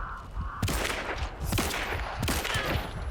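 A Vetterli Cyclone rifle fires in the video game Hunt: Showdown, with several loud close shots and echoing tails, spaced roughly one second apart.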